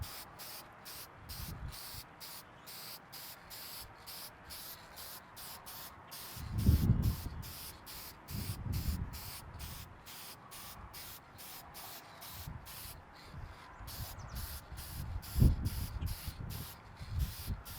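Silver aerosol can spray painting a Honda CT70 motorcycle shock: rapid rhythmic bursts of hissing spray, close and steady, with occasional low thumps of handling between passes.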